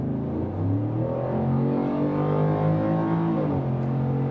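A Ford F-150 pickup truck with an empty bed accelerates, its engine droning with a steady, rising hum that holds close and loud for a few seconds.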